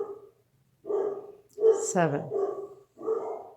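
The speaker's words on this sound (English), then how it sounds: "Dogs must be seeing a cat, they're going wild" Dogs bark excitedly in the background, several sharp barks breaking through as a person keeps talking over them.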